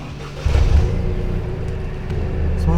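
A Toyota GR Yaris engine fires up with a rising revving burst, then settles into a steady low idle rumble, close by with faint background voices.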